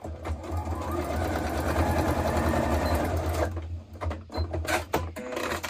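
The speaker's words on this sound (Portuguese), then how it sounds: "vou colocar a ponta dela no pique, bem assim, e vou costurar, passar uma costura aqui." A sewing machine stitches along the edge of fabric in one steady, fast whirring run of about three seconds. It then stops, followed by a few light clicks and handling sounds.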